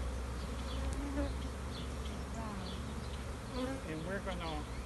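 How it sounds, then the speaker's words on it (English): Honeybees swarm around a nucleus colony being installed, a dense buzzing drone of many wings close by, with individual bees whining past and people talking faintly underneath. "A lot of bees flying."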